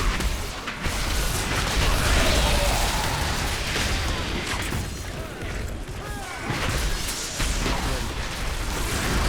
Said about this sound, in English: there's 20 bombardments just dropping out of the sky